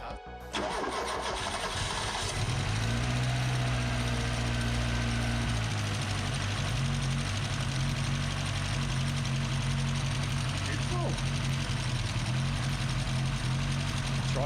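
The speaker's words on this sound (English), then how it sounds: "Oh, absolutely massive exhaust leak as well." A Volkswagen Golf MK2 Syncro engine rumbles steadily at idle after starting up, with a rough, loud exhaust note from a massive exhaust leak running throughout; no voices.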